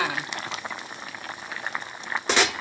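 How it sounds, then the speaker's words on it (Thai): A pot of Thai green curry with winter melon, fish balls and seaweed bubbles at a steady boil, with close, soft popping and a louder burst of bubbling near the end. "เดือดแล้วนะคะ สุกแล้วนะคะ"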